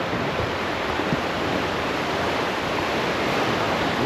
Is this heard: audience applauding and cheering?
no